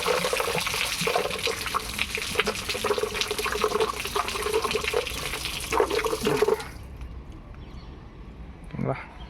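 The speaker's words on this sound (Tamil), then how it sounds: "எங்கே பிடிச்சாலும் தண்ணி வந்து நல்லா பளிச்சிட்டு தான் வரும்." Water treated by an iron removal and softening plant pours from a household tap, a steady splashing stream that cuts off after several seconds, followed by a brief faint knock.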